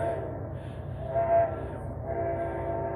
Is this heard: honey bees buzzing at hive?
no